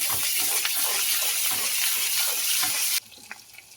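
Ginger and garlic paste hitting fried tomato in a pan for a spicy fish curry, giving a loud, steady hiss and sizzle that runs for about three seconds before dropping abruptly to a quiet background.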